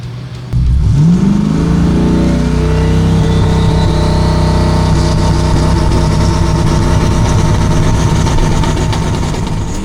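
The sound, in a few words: LT-engined C10 race truck spinning tires on launch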